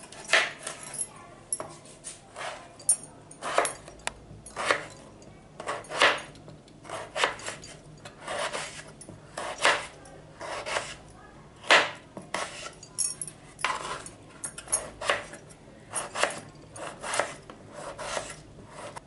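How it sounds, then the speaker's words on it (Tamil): Potatoes being cut by hand in a home kitchen, with a series of short, crisp knife strokes in an uneven rhythm, quiet and close, without talk. "புளி ஊறட்டுக்கு உருளைக்கிழங்கு கட் பண்ணிக்கலாம்."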